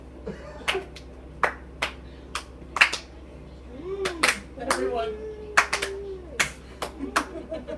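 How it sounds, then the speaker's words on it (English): Scattered, irregular claps from a few tabletop role-playing game players, slow and out of sync, with voices talking and laughing between them. "It's like we have the most terrible slow clap. Everyone off beat."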